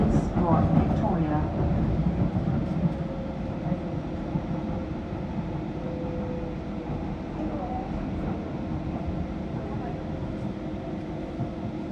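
A Docklands Light Railway train running between Canning Town and Beckton, heard from inside as a loud continuous rumble with rail noise and a faint tonal whine, while an announcement voice speaks over it at the start.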